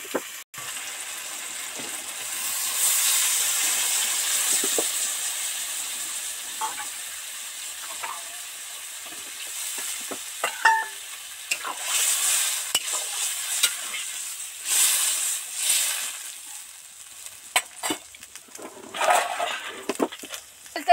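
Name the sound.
vegetables and spices sizzling in a pan after adding water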